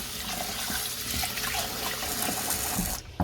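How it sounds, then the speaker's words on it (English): Tap water pours steadily into a kitchen sink while rice is rinsed for a Black+Decker rice cooker. The close, continuous splashing rush breaks off abruptly at the end. "So I'm going to be washing the rice here."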